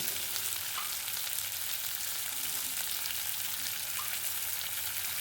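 Potato pieces fry in oil with turmeric and salt, giving a continuous, close, even sizzle with faint stirring scrapes, steady and unbroken with no talk.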